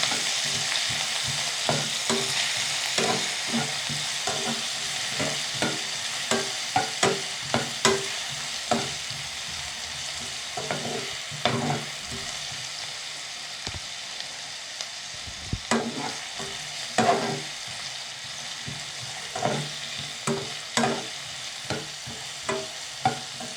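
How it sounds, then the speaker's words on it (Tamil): Vegetable biryani masala with chilli frying in a pan while being stirred: a loud, continuous hissing sizzle with close, irregular scraping and tapping strokes throughout. "அதை எல்லாத்தையும் போட்டு நன்றாக கலக்க விட்டோண்டு இருக்கிறோம்"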